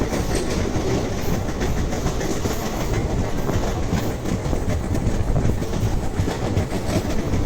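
A sleeper train runs through the Kerala countryside in India with a steady, loud rumble of wheels and carriages and a continuous clickety-clack of rail joints throughout.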